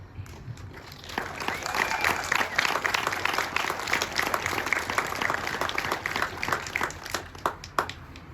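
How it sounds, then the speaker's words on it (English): Graduation ceremony audience bursting into applause, building quickly from quiet and holding as sustained dense clapping for several seconds, with a few scattered louder claps near the end. "Don't stop clapping"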